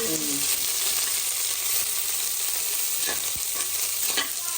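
Chopped onion frying in oil in a pan for besan in a village home kitchen, a loud, constant close sizzle with occasional scrapes and knocks of a spoon stirring.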